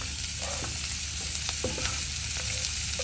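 Onions and garlic frying in hot olive oil in a skillet, a dense close sizzle with a few stirring scrapes, no voices.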